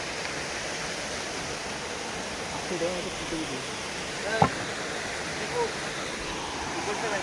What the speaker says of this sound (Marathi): मित्रांनो गुगलच्या मॅप सहाय्याने आम्ही शोधला धबधबा